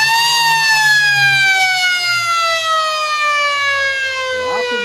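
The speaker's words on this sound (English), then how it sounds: "After the siren, in he comes now, Pethick." A quarter-time siren sounds at a country Australian rules football match in Kojonup, a loud sustained wailing tone that slowly falls in pitch over about five seconds, with faint crowd and commentary underneath.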